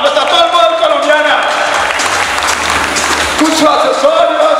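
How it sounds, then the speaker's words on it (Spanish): Audience applause at a fashion runway show for a model, a loud burst of clapping that swells in the middle, with a voice and music around it. "Un fuerte aplauso a Yuri Colostaño, nuestra palma colombiana."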